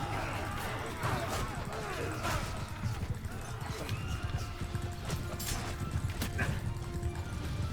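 Horse galloping in the Mount and Blade 2 Bannerlord video game, rapid hoofbeats with whinnies and clashing battle noise in a dense, steady mix, a voice talking over it.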